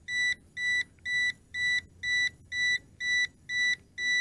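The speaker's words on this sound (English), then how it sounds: "Makes this beeping noise on the transmitter." Regular electronic beeps from a JXD 506G RC quadcopter transmitter, about eight evenly spaced pulses, loud and close, with faint mechanical hum underneath.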